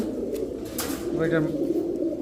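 A large Giant Lahori pigeon coos once, a short low burbling call close by, over a steady background hum, with a voice talking beside it.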